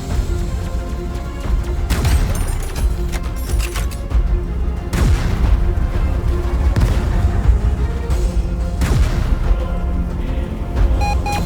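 Enemy missile explosions in the space combat game Phantom Galaxies boom and crash repeatedly over a dense, loud layer of game action, with several sharp blasts standing out through the clip.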